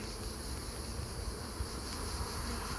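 Honeybees buzzing at an open beehive after smoking, a steady dense hum from many insects close by, with a constant high drone and no talking.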